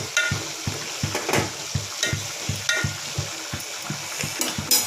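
Cabbage and tomato curry with chili powder sizzles in a pan while a spoon stirs it in a steady rhythm of close, regular scrapes over a constant frying hiss, with no talk.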